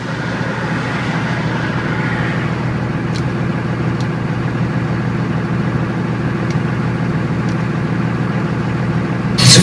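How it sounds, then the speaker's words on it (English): A Cummins diesel pickup truck with a six-speed and huge tires idles nearby, a steady low rumbling drone with a faint rise at the end. "I'm gonna roll the window down so you can hear this truck."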